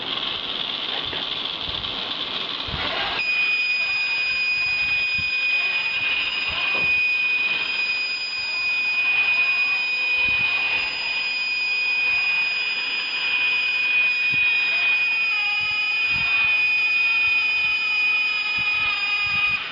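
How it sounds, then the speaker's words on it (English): A loud, continuous electronic buzzer on a solar tracker robot drones steadily, its pitch shifting slightly partway through, with faint clicks and rustling underneath. "buzzer is going to give you the indication of your wrong movement of your robot"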